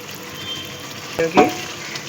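Spices frying in a pan for potol dolma after garlic paste, ginger paste and red chilli powder go in, a steady close sizzle broken by two quick scraping stirs near the middle, no talking.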